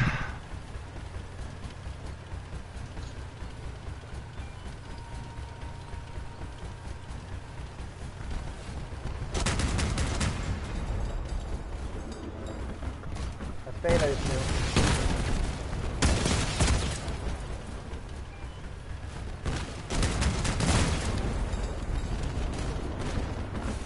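Two shotguns blast in the vehicle-combat game Crossout: a few heavy, rough bursts over a steady low engine rumble, spaced several seconds apart and loud against the droning background.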